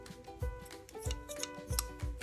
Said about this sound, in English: a pair of scissors